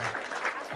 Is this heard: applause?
yes